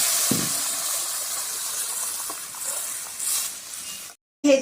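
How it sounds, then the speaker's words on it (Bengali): Hot water pours into a pan of frying taro with salt, turmeric and spices, giving a steady close sizzling hiss for about four seconds. A short silence follows, then a brief loud burst. "এবার আমি পাশ থেকে গরম জলটা ঢেলে দিচ্ছি।"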